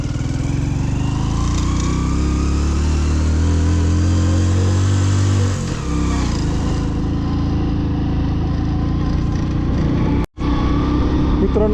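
A Hero Passion Pro motorcycle that seems to be running poorly climbs a mountain road in Spiti Valley, its engine droning loud and steady throughout with wind rushing past, and a brief dropout near the end.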